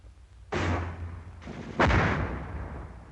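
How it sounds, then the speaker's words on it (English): Mortar fire in an infantry training film: two heavy booming blasts, the first around half a second in and a louder one near the two-second mark, each with a long rumbling decay. "mortar fire is high-angle fire which can slam down from the sky"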